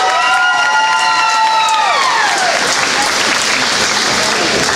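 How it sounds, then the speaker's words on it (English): Loud, continuous crowd applause at a women's basketball game, with a rising, then falling tonal cry over the clapping at the start. "Let's give a round of applause for number 45, Malay Van Hootert."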